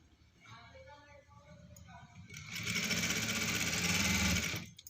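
A sewing machine stitches piping onto cloth, its motor whirring up into a loud, steady run for a couple of seconds before stopping, with someone speaking softly just before it starts.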